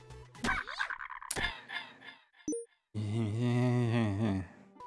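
Frogs in the video game Micetopia croak loudly and close, with several sharp calls, a brief electronic blip, and then a long, deep, drawn-out croak.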